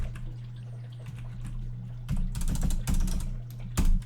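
Numbers being typed on a computer keyboard, a few short clusters of close clicky keystrokes over a steady low electrical hum, no speech.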